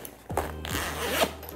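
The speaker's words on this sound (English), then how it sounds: "And then on the back, there's a zipper" A backpack zipper pulled along its track in a short burst of close, rasping zips with a brief pause between strokes, heard alone.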